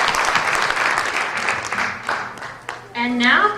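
Applause at a Miss Washington County and Miss Western Maryland pageant rises briefly under an announcer's voice, then fades as the speaking continues.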